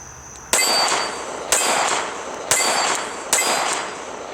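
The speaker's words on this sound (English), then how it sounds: "As you can hear, I'm continuing to hit that steel." Four evenly spaced 9mm Glock 19C compensated pistol shots about a second apart, each a sharp bang followed by a bright metallic ring from a struck steel target, fairly loud and close.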